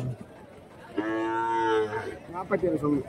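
A cow lows with one long, loud moo at a busy cattle market in Kundarapalli, Krishnagiri district, where a cow and her calf are being sold, followed by shorter calls or voices close by.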